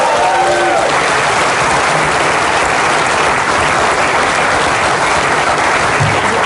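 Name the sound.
audience applause after a pool trick shot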